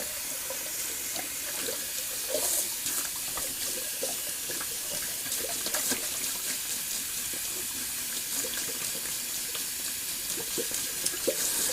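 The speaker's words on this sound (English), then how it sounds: "I know you guys hate it when the water runs." Tap water runs continuously into a sink while a shaving brush is rinsed, a steady bright splashing hiss with small irregular spatters, close and alone.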